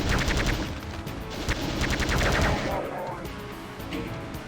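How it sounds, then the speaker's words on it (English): Rapid repeated plasma rifle bursts fire at an Archvile in Doom II, a dense rattling volley that runs continuously and loud over the game's background noise. "I'm just going to use the plasma gun against this Archvile"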